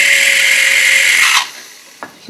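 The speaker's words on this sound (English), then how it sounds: "we're going to drill further through the skull toward the opening here" A handheld power drill whines loudly as it bores into a sculpted skull for head sculpting, then stops abruptly, followed by a couple of faint taps and clicks.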